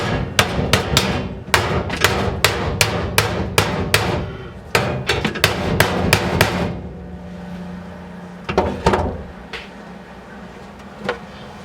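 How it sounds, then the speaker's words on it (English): Hammer tapping down a welded-in floor patch panel on an old rusty pickup: rapid bursts of sharp metallic strikes in quick clusters, then a few scattered, fainter taps close by. "I'll give this a little tap down"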